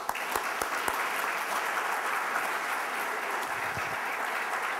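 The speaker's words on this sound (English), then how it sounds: "So let's give them another round of applause, please." A room of attendees at a Riviera Beach League of Cities luncheon meeting claps in a steady, moderately loud round of applause, with a few sharper individual claps standing out early on.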